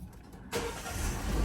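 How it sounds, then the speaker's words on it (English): A 2018 Peugeot 3008 starts up: a short quiet pause, then the engine catches abruptly and settles into a loud, steady idle close by. "press the brake, and start the car."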